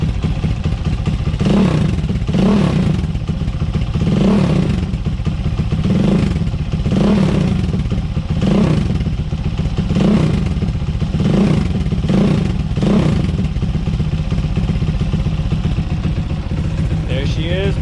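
A warmed-up Grom clone Mach 2 motorcycle engine runs steadily up close, blipped into about nine evenly spaced revs over a constant idle rumble.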